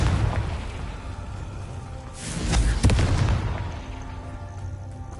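A Confringo blasting curse explodes in Hogwarts Legacy, a single booming blast that swells and bursts mid-clip over a rumbling game ambience, then fades back to a low background.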